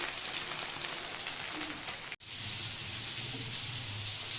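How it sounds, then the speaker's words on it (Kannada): Chicken fries in hot oil until golden brown for Hyderabadi chicken biryani, giving a loud, steady, close crackling sizzle like heavy rain, broken only by a momentary dropout midway. "ಗೋಲ್ಡನ್ ಬ್ರೌನ್ ಆಗುವಷ್ಟು ಫ್ರೈ ಮಾಡ್ಕೊಳ್ಳಿ."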